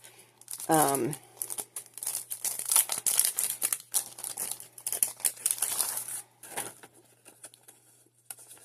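Plastic dimensional sea life sticker sheets crinkle and crackle as they are handled close by, in bursts that run under a person talking.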